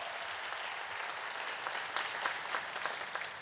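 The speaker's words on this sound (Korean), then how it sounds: "여러분 크게 박수로" A church congregation applauding to welcome a new pastor during a service, steady crowd clapping with a slight swell toward the end.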